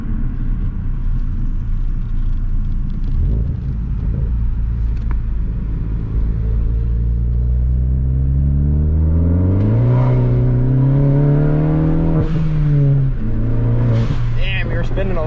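A 2018 Ford Focus ST engine revs hard and climbs in pitch as the wheels spin, loud and close from inside the car, with a rising whine near the end and people talking over it.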